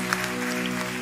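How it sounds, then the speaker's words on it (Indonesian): A church congregation claps together during a service, a dense, steady patter of hands under a sustained musical tone, with no pauses across the full moment. "Tepuk tangannya yang meriah."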